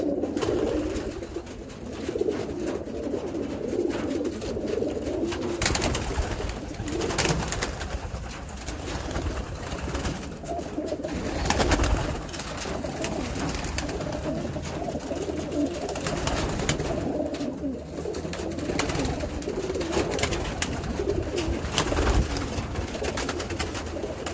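Wild pigeons coo repeatedly in soft, throaty rolling calls, several birds overlapping close by, sustained throughout with no talking.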